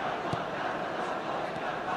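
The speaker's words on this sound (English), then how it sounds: "The crowd are calling for this to be put to bed." Stadium crowd in an eFootball 2025 online match, a dense sustained roar of cheering and chanting at an even level with no gaps.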